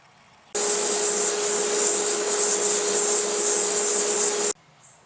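Sanding a dried sycamore woodturned hollow form on the lathe, a steady hissing rub with a faint tonal whine that starts abruptly, holds evenly for about four seconds and cuts off.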